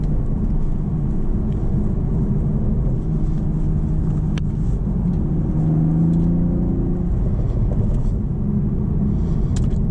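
A 2025 BMW Z4 M40 with manual gearbox climbs a hill toward a highway, a steady close engine rumble with a rising whir as it pulls, continuous and fairly loud with no talking.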